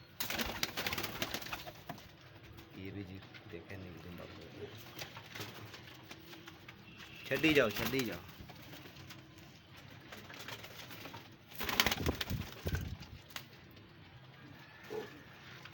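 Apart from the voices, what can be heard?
pigeons cooing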